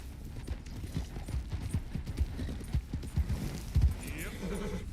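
Horse hooves clip-clop at a trot in Red Dead Redemption 2, a steady quick rhythm of soft thuds, with a brief whinny and a voice over the hoofbeats.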